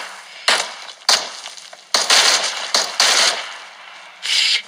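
Bursts of automatic gunfire in the game PUBG, several loud, sharp volleys of varying length separated by short pauses, harsh and close with no talk.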